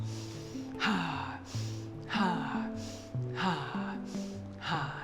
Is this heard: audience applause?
no